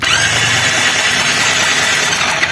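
Electric self-starter cranking a Hero Splendor BS6 fuel-injected motorcycle in a garage while the bike refuses to start: a loud, close, continuous whirring drone that holds steady for the whole stretch, with no talk.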